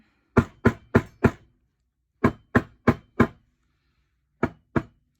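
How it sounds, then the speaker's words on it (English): Dull, hollow rubber hammer blows on a sterling silver ring on a mandrel strike in bursts: four quick even hits, a pause, four more, then two, each short and close with no ringing. "you just hit it with the hammer until you get it to the size that you want it."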